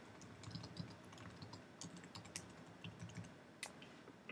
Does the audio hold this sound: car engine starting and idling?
no